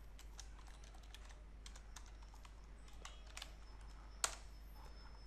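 Quick, light clicking of keys on a computer keyboard while someone types a short phrase, soft irregular taps close by with one sharper keystroke near the end, no talking.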